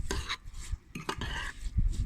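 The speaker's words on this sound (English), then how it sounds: "Now I am using blue and a different spoon to stir." A spoon stirs dry rice tinted with blue colouring in a bowl, a few short gritty scraping strokes, close and fairly quiet.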